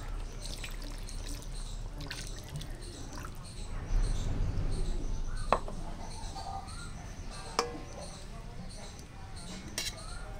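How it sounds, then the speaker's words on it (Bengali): A little water poured into aloo biryani in a cooking pot, a short splashing pour standing out midway, with a few sharp clinks and a steady low background hum. "অল্প করে আমি একটু জল দিয়ে দেব।"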